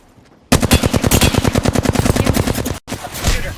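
Loud, close automatic gunfire in a shooter video game, a rapid even stream of shots after a quiet start, broken by a brief gap before another burst.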